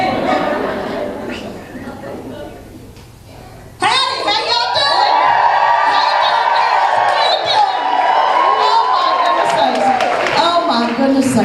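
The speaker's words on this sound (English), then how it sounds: "I want you to whoop and holler like you just seen Dolly Parton." A women's conference audience suddenly breaks into loud whooping, hollering and cheering after a stretch of quieter murmuring and talk, then keeps up a full, sustained roar of voices to the end.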